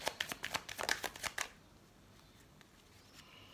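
Tarot cards are handled and laid onto a spread with a quick run of crisp card flicks and slaps, close up, followed by a quiet pause with faint rustling.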